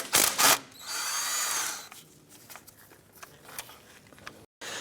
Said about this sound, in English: Go ahead and remove this 10mm bolt here.